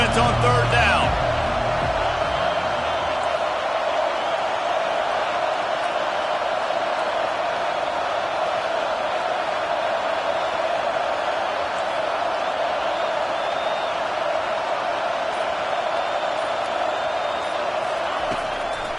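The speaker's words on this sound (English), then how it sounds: "Decibels rising as the crowd gets behind this defense on third down." A stadium crowd in the NCAA 25 college football video game roars steadily through a defensive third down, a dense, sustained wash of cheering that holds at a constant loud level for the whole stretch.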